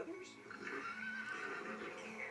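A voice imitates a horse neigh, a short, bright, wavering whinny lasting about two seconds, close and clear, performed by a duck character doing animal impressions.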